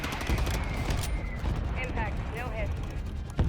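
Gunfire in the video game Warzone cracks in short bursts of shots, some near and some distant, beneath a continuous game soundscape.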